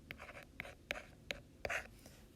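Chalk or marker writing on a board during a calculus lecture, a series of short sharp taps and scratchy strokes at an irregular pace, close and clear with no speech over it.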